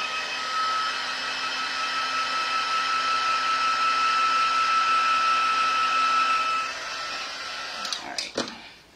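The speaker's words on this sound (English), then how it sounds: "Here, I can use my heat gun on it." A crafter's heat gun blows steadily on a paper pop-up slider card, a loud continuous whooshing hum with a faint high whine that eases near the end, followed by a few quick clicks as it shuts off.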